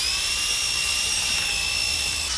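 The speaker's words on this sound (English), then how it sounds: "people came up with ways to make electric motors and attach them to the spinning drill bit" A high-pitched electric motor whines steadily at constant speed, a sustained tonal drone with no pauses.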